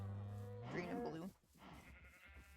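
Sheep bleating in a video game, a single drawn-out, wavering bleat up close, followed by a softer trailing sound.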